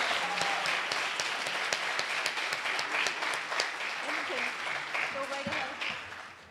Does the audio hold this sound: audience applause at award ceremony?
yes